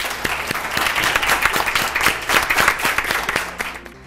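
Studio audience applause closing an interview on a school television program, loud sustained clapping from a crowd with rapid overlapping claps that fade out near the end.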